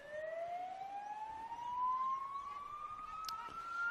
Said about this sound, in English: A few sirens in the background, a bit of smoke blaring. Oh, here we go, got the fire truck coming straight past.